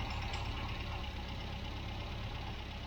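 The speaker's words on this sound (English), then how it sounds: "She's idling at about 850 RPM." A 1967 MGB Mk1 engine ticks over at a steady idle of about 850 RPM, a continuous low, even rumble close by with no talking.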